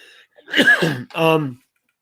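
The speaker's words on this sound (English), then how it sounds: "sorry, folks, I'm coughing" A single rough cough or throat-clear bursts out close by, followed by a short voiced grunt, then quiet.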